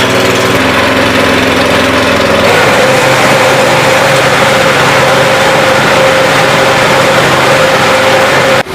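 A Honda engine on a crop reaper machine runs steadily after a rope start, a loud, continuous mower-like drone with a high whine that holds for several seconds before cutting off abruptly at the end.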